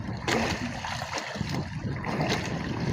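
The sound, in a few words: sea waves while out fishing on a boat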